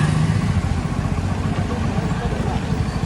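A motorcycle engine runs with a loud, close, steady low rumble on a ride toward the Dakor temple, a constant throb throughout with voices mixed in beneath it.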